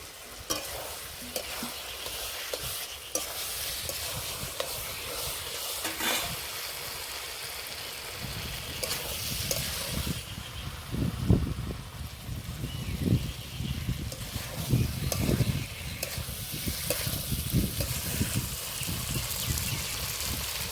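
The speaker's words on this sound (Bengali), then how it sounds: "এবার ভেজে রাখা আলু আর ইঁচড়গুলো দিয়ে দেবো" Fried potatoes and jackfruit tossed into hot oily masala crackle and sizzle steadily, with repeated scraping stir strokes of a spoon through the pan, close and continuous with no talking.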